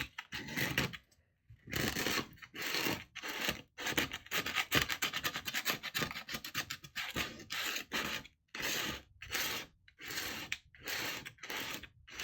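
An old credit card scrapes dried salt off a watercolor painting on paper, a close series of short rasping strokes with brief pauses between them, quiet and without voices.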